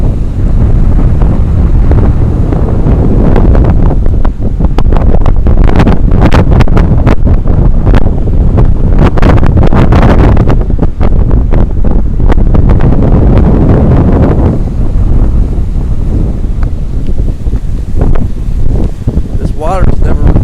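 Strong wind buffeting the microphone at the Treasure Island shoreline, with rough waves crashing and surging underneath in a constant loud roar, while someone talks over it.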